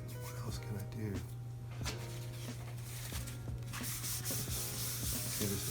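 Pan pastel being rubbed into paper with an applicator, a soft, steady scratchy rubbing in repeated short strokes, close and quiet over a constant low hum.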